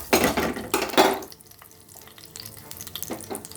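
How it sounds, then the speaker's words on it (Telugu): Tempering spices crackle and sizzle in hot oil in a kadai while radish and coconut curry is prepared, loud spattering bursts at the start that settle into a softer fry with a few scrapes, no talk. "ఫస్ట్ పోపు వేయించేసుకుందాం."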